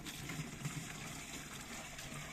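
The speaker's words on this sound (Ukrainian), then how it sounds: "а тоді під кожний кущик окремо налию відро води" Water gushes from a large 12-litre bucket onto the base of a rose bush, a steady close pouring rush with a few heavier splashes, no talk.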